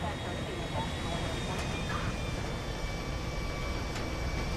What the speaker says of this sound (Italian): Ragazzi, si può prendere l'aereo!